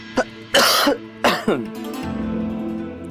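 A man coughs several times, a few sharp hacking bursts in quick succession followed by a low throat-clearing rasp, close and clear with no talk.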